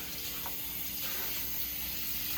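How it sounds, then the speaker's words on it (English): Cold tap water runs steadily over red peas in a kitchen sink as they are rinsed for Jamaican red peas soup, a soft continuous splashing without talk. "just rinse it with cold water"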